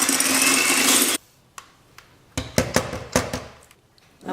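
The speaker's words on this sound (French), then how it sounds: "on va venir battre les blancs d'œufs en neige" An electric hand mixer whips egg whites for a no-bake pineapple tiramisu. It gives a steady loud whir for about a second, then stops, followed by a string of sharp clinks and knocks against the bowl.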